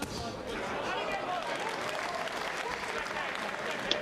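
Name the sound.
boxing crowd applauding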